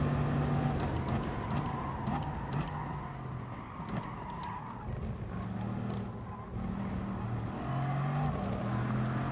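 A race car engine in Gran Turismo Sport drones steadily with shifting revs, low and continuous, under faint clicking.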